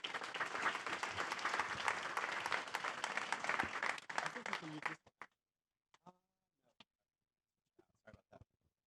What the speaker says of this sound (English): So round of applause for Tim.